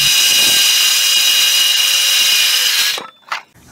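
A power drill drives a screw through a hanger piece into wooden framing of a covered bridge, whining loud and close for about three seconds before stopping, followed by a short clatter.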